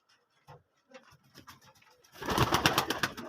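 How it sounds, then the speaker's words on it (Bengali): A domestic pigeon in a keeper's loft gives soft, low coos that build into a louder burst of fluttering and shuffling, close by. "বহুত দিনের পায়রা এটা আমার।"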